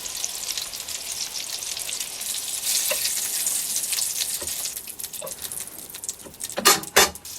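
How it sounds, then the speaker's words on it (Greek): Steady oily sizzling from meatballs frying in a pan, with a few brief clinks and louder crackling bursts near the end. "Τηγανίζω και τα υπόλοιπα και πάμε για τη σάλτσα"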